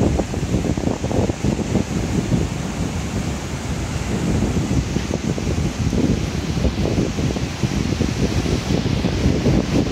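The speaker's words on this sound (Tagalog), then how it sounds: "malakas din ang alon" Loud, steady roar of strong sea waves driven by Typhoon Aghon in Real, Quezon, mixed with gusting wind, a dense rushing wash that never lets up.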